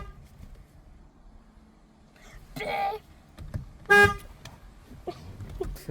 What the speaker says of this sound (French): Comment on fait pour klaxonner?